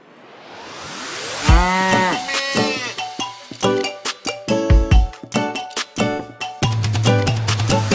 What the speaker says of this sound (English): She is so funny when she goes moo